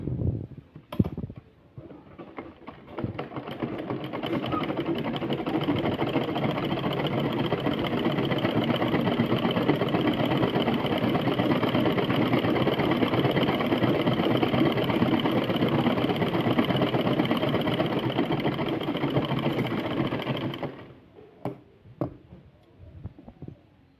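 A sewing machine runs steadily for about eighteen seconds, stitching fabric for a flower latkan, its rapid mechanical whir close and continuous before stopping, with a few handling clicks before and after.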